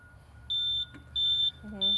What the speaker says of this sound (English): You hear this beeping noise.